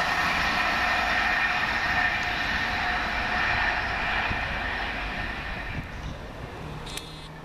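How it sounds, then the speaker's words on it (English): A South Western Railway train rolls into Farnborough station on the line toward London Waterloo, a steady broad rumble and rail hiss that slowly fades, ending with a faint high squeal of brakes. "Just now coming in the 10:30 Southwest train service from Port of Harbour to London Waterloo."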